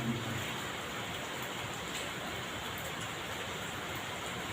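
Rain falling during an evening religious study gathering, a steady, even hiss of downpour that holds at one level throughout, with no one speaking.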